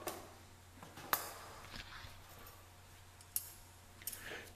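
Wire mesh is cut with snips in a quiet room. A few sharp, isolated clicks and snaps fall at uneven intervals over faint background hiss.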